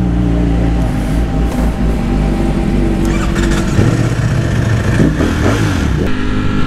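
Ducati Streetfighter V4 SP motorcycle with a dry clutch, its engine running loud and close with a steady deep drone and rising revs partway through, dry-clutch clatter mixed in.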